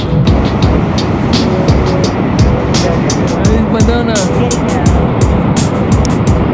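Niagara Falls roars from inside the viewing area, a loud continuous rush of crashing water with a brief spoken word over the din.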